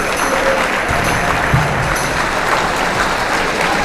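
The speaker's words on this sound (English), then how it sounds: "Big round of applause for them" A school audience gives a steady, loud round of applause at a Brotherhood-Sisterhood week family talk, a thick wash of clapping that holds evenly throughout with no speech over it.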